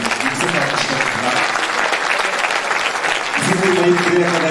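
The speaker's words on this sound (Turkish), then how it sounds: "Alkışlarınızla Mevlüt Özü buraya davet ediyoruz." An audience at a spring concert by a Turkish folk music choir applauds a teacher onto the stage with sustained, dense clapping, loud and continuous, before a tonal sound begins near the end.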